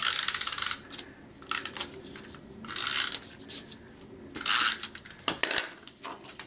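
A Snail adhesive tape runner rolled across the back of a Daffodil Delight cardstock card base, several short dry crackling strokes separated by pauses, close and crisp.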